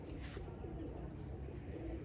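Soft, low pigeon cooing repeats steadily through the clip over a dull background hum, fairly close and moderately quiet.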